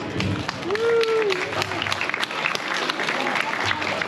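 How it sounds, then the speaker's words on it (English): Applause for a group of kids at a fishing event, a broad sustained patter of clapping with cheering and a whooping voice over it, talk mixed in throughout. "And give these kids a round of applause."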